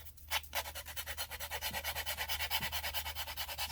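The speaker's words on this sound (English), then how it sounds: "Sanding my edges." The edges of a handmade Valentine craft calendar are sanded by hand, producing a close, quiet, rhythmic series of rasping rubbing strokes, roughly five per second, over a low background hum.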